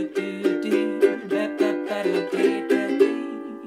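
Ukulele strums out the chords of the B section of a song, a steady rhythmic pattern of bright plucked chord strokes played alone and close.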